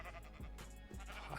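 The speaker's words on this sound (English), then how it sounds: "All the sheep have come out." Sheep bleating in Minecraft, two short, soft, close bleats in quick succession over a quiet background.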